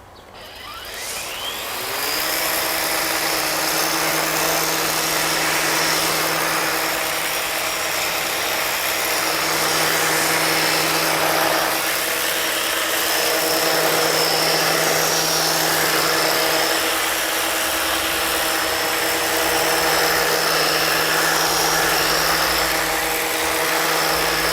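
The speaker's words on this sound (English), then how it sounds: "Let's try this out on the top speed on the 18 volt power head." Makita 18 volt ground trimmer hedge rake on its power head at top speed: a loud, steady high motor whine that spins up in the first seconds, then holds for the whole stretch with no talk.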